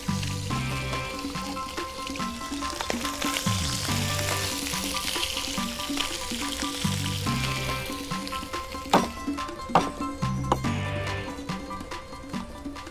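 Chopped free-range chicken sears and browns in hot oil in a pan, a loud, steady sizzle and crackle with scattered pops and stirring clatter near the end.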